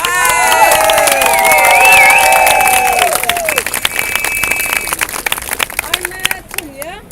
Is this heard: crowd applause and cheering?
yes